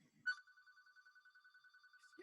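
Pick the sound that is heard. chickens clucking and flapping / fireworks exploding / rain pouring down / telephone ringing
telephone ringing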